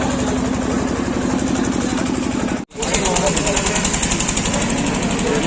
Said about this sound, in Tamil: ஸோ ஃபுல் செம்ம கன்ஸ்ட்ரக்ஷன் போயிட்டுருக்கு